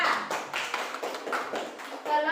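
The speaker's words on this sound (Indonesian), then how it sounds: "Tepuk tangan untuk Rapa" A class of students applauding in a classroom, with a steady run of scattered hand claps filling the whole stretch, fairly close and lively, with faint children's voices mixed in.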